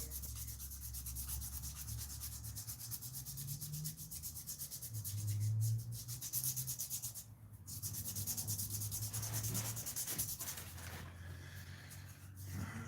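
Continuous rough rubbing of sandpaper on a wooden gladius sword being hand sanded, long back-and-forth strokes with brief pauses, close and steady.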